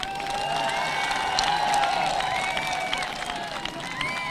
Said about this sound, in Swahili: Apigue makofi.